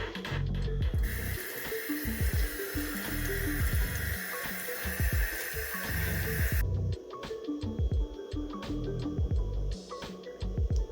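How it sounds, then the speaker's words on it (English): Tap water runs over a Red Burgundy okra cutting to wash off bugs. A steady splashing stream sounds nearby with uneven gurgles and squishes, then a quieter trickle at the end, and no one speaks. "I need to rinse the bugs off of it"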